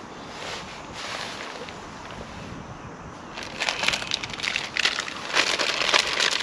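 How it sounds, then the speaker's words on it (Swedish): Wind gusts over a lake, blowing as a steady noisy rush that grows louder and more buffeting in the second half, with no one talking. "Det blåser lite över sjön här."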